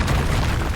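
Confringo spell blast in Hogwarts Legacy, a dense, loud booming burst that fills the whole moment with heavy low rumble and no pause.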